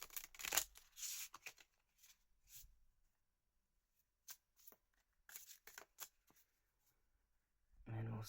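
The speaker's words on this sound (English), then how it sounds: "We'll start with a bit of shuffling." Tarot cards are shuffled in quick riffling bursts separated by short pauses, close and fairly soft, ending with a brief louder rustle.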